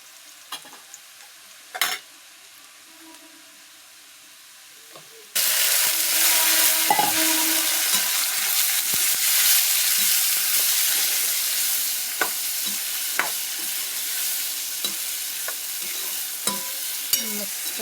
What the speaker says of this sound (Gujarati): શાક વઘાર દીધું છે તીખી તીખું